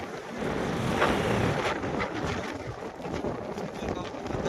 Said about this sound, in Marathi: वारा बघा काय सुटलाय, वारा बोलत जातो